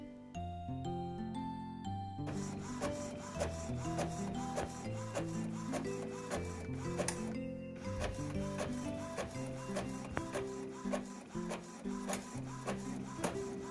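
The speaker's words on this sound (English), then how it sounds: "My first sticker is coming out of the printer." An Epson inkjet printer prints stickers on white uncoated paper, its print head shuttling back and forth in rapid, rhythmic mechanical passes with whirring motor tones and clicking feeds, steady and close throughout.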